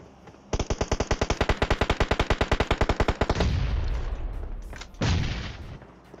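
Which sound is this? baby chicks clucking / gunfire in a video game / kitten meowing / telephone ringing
gunfire in a video game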